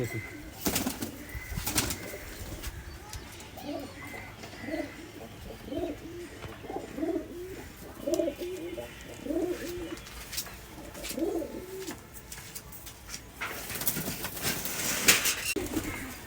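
Kamagar pigeons coo close by in a run of repeated throaty calls through the middle, with rustling and handling noise at the start and end.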